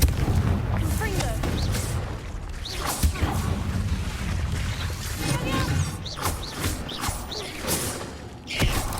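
Confringo blasting spell cast in Hogwarts Legacy inside a cave, a dense rumbling game soundscape with several booming impacts and mechanical clatter, loud and continuous, with a voice calling out over it.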